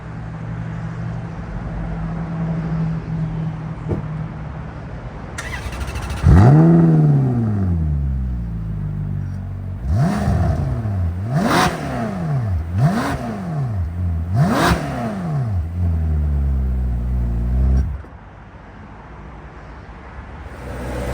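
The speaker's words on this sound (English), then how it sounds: "I'm gonna go ahead and do a startup of the car and a few revs." A 2010 Ferrari California engine cranks and fires up, then settles to idle before four sharp revs rise and fall in quick succession, loud and close, and finally drops back to a quieter idle.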